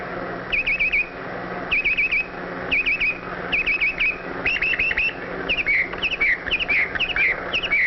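A male red-winged blackbird sings repeatedly near a cattail pond, each bright, whistled trill arriving in regular bursts about once a second over a steady low hum.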